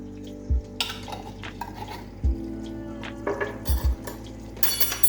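Chicken with ginger-garlic paste sizzles softly in a pan for karahi gosht while a utensil stirs and knocks against the metal a few times, with light clinks throughout.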